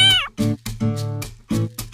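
Several loud, close cat meows from the game Cookie Run: Kingdom, one rising-and-falling cry followed by a rhythmic string of short, bright mews with brief gaps, no talking.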